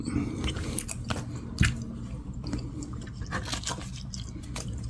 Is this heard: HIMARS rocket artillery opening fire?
no